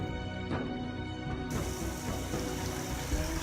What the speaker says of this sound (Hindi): आज बहुत दिन बाद सुनी है बारिश की आवाज़